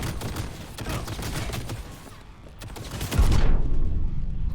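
Rapid automatic gunfire in the video game Cyberpunk 2077, a fast stream of shots for about two seconds, then a brief lull and a heavier, louder blast of firing near the end.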